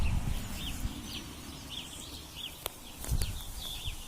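Hens clucking inside a coop, a soft scattered series of short calls over low background rumble, with a couple of sharp knocks near the end.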